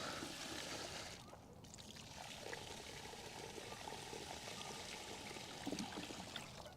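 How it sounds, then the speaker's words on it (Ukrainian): Water poured out of a fishing bucket beside a lake during a spring feeder fishing trip, a steady splashing pour for several seconds, close and fairly loud, ending with light trickles and dribbles. "Зараз злию воду."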